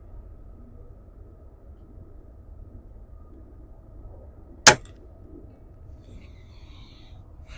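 A spring-piston air rifle, a Weihrauch or Beeman such as a 1983 Beeman R8 or 2023 Weihrauch HW50S, fires one sharp, short crack out of quiet outdoor background, with low rumble before and after.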